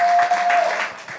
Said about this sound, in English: Clap it up for her, please.